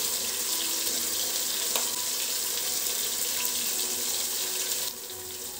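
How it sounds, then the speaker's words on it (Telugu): Water pours into a grinder jar in a kitchen with a continuous splashing trickle, close to the microphone. It flows steadily for about five seconds, then drops off a little near the end, with no voices. "గ్రైండర్లో కొంచెం వాటర్ పోసుకొని ఆ మిక్చర్ పోసుకుంటున్నాను"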